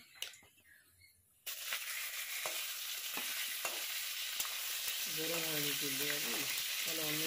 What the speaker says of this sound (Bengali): ফোড়ন দিয়ে দিলাম এগুলো, এবার এই চিকেনটা দিয়ে দেবো।